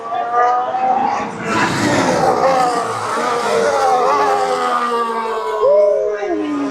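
An Audi Formula 1 car driving past at the British Grand Prix during the first practice session: a loud, dense engine whine whose pitch sweeps and shifts, steady throughout with trackside crowd noise beneath.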